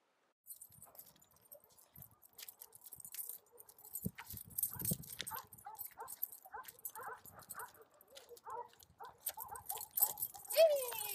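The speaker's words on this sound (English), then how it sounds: "in the background, there's a lot of dogs barking" Dogs barking and yipping outdoors in the background, several scattered calls at moderate distance, with some faint jangling and brief talk mixed in.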